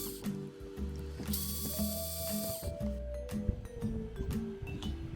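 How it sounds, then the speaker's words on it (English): Small screws being backed out of the steering linkage on an Element RC Enduro Sendero crawler, giving close ratcheting clicks from a hand driver with light mechanical rattles, steady and without talk. "The first step is to remove the two screws from the string linkage."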